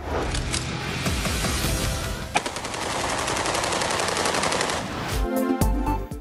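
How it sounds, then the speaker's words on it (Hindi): Celebratory aerial gunfire at an anniversary celebration in Wapda Town, Gujranwala, rattles in long rapid automatic bursts, loud and continuous, with a few sharper single cracks and a brief pause near the end. "इलाका गोलियों की तड़तड़ाहट से गूंजता रहा।"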